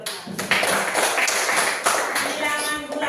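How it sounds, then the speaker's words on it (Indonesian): A class claps hands together, a burst of scattered, brisk clapping that rises near the start and carries on steadily for about three seconds in a reverberant room. "Oke, tepuk tangan dulu untuk"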